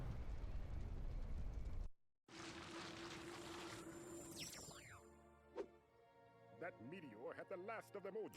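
A cartoonish video-game explosion goes off during a Billy & Mandy boss fight, a loud dense roar that cuts briefly to silence, followed by a rumbling wash with falling whistles and swooping tones under game music.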